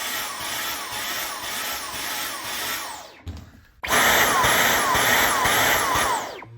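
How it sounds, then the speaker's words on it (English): Dyson V15s vacuum fitted with a mop head, motor pulsing from blocked airflow in a loud, steady rhythmic whine, cutting out briefly midway before restarting at full loudness. "when you hear that pulsing sound or you see this yellow indicator, that means the vacuum believes there's a blockage"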